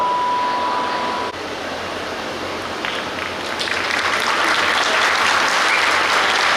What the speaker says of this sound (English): we have a huge round of applause, ladies and gentlemen, a little louder for our doctors there.